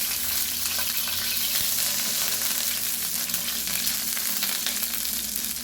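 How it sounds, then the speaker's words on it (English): Italian sausage sizzles and fries in olive oil in a hot skillet, a steady, dense crackling hiss that carries on without a break, close up, with no talking. "Then I'm gonna slide in my Italian sausage."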